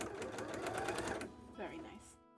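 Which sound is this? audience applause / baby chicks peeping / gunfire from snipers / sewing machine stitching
sewing machine stitching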